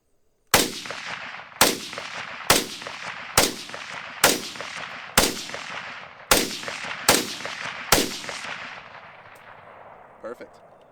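An SKS rifle fires nine rounds of Freedom Munitions 7.62x39 150-grain ammunition, sharp loud cracks spaced about a second apart, each with a short echoing tail, followed by faint clicks of the action.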